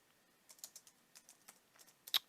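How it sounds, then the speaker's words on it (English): Quick, light keystrokes on a computer keyboard, tapping in short uneven bursts with a sharper clack near the end, close and fairly quiet with no one speaking. "let's just type in here"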